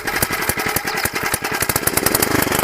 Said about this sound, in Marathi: त्याला बघा मशीन चालू झाली अशा प्रकारे